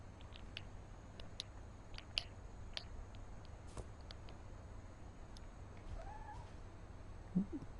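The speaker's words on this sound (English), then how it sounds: "There's a cat somewhere." Soft, distant cat meows drift through a quiet game scene in What Remains of Edith Finch, brief scattered cries over a faint low hum with small clicks and taps.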